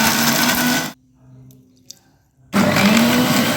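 A mixer grinder grinds ginger, garlic and shallots into a fine paste, loud whirring bursts at the start and end with a quiet pause between, no talk.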